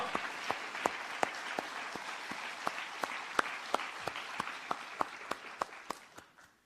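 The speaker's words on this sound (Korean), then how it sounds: "하나님께 영광의 박수 올려드립니다." A church congregation applauds together in a steady wash of clapping, with sharper hand claps rising out of it before the sound fades away.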